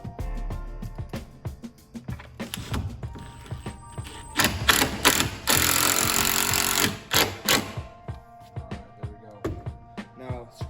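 A power driver drives screws into a router table in bursts of whirring and clattering, with a longer sustained run in the middle and short, close, loud spurts before and after.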